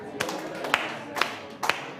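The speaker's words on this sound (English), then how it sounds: "Clap 4 times if you hear me." Four distinct sharp claps from an audience at a climate and health talk, evenly spaced about half a second apart over a steady murmur of room chatter.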